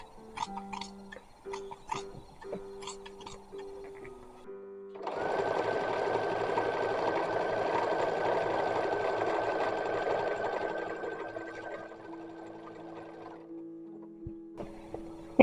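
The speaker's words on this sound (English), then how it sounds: "I am going to fell this seam simply because I want to make sure that this raw edge doesn't ravel" Sewing machine stitching a felled seam on fabric for an 1860s-style cloth doll: a few light clicks and handling noises, then a steady close mechanical whir running for about eight seconds before stopping.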